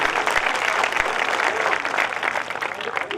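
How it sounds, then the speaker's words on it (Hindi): Loud applause from a crowd at a Hindi poetry gathering (kavi sammelan) for a humorous poet, dense and sustained throughout, with crowd murmur mixed in. "मैं चाहता हूं उसका एक बार जोरदार तालियों से अभिनंदन हो।"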